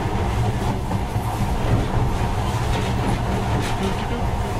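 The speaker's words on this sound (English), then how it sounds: "Now, this monorail seems magic, doesn't it?" A monorail ride in the video game Metro: Last Light gives a loud, continuous rumbling rail drone with rhythmic clattering and no break throughout.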